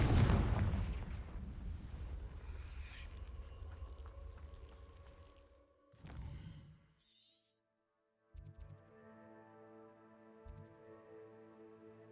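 Booming blasts of the Confringo spell from the video game Hogwarts Legacy: a heavy explosion opens, rumbles and fades, then a second burst follows a few seconds later, leaving tonal game ambience and soft magical shimmers.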